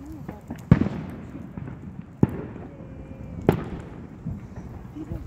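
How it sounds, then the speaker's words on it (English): Three sharp, loud Fourth of July firework bangs ring out at uneven intervals against a low outdoor murmur at an intersection, with faint voices in the background. "That was a really weird firework."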